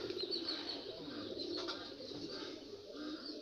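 Pigeons at a village house coo in a soft, steady, close chorus with faint chirps, and no talking is heard.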